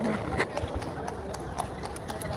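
Horses' hooves clip-clopping on a street, an irregular run of hoof knocks at moderate distance under steady background bustle and people talking.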